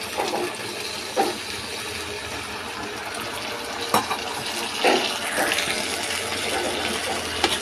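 Water is poured lightly into Cabbage Manchurian sauce in a pan, giving a soft continuous pour with a few brief splashes and clinks.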